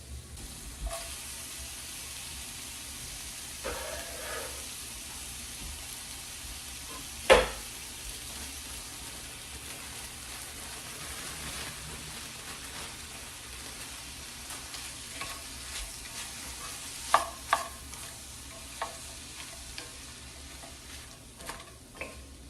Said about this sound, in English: I have my sausage, peppers, and onions finished sauteing